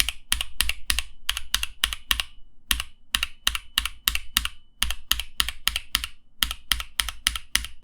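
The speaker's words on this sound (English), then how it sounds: "The ping coming from this switch is among the worst I've ever heard." Fast mechanical keyboard typing on NovelKeys Blueberry switches, crisp clacks in quick bursts with short pauses, each keystroke carrying a faint metallic ring.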